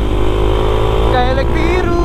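A motorcycle engine, apparently a supermoto out on a Sunday morning ride near Lembang, drones steadily and loudly, its pitch climbing in a short rev toward the end, with someone talking over it.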